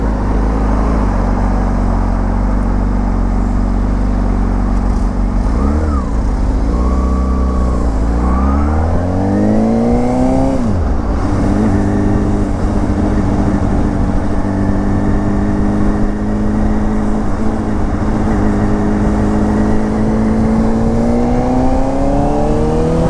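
Engine of a motorcycle being ridden on roads in Veneto, a loud continuous drone close up, rising and falling in pitch through several gear changes and accelerations.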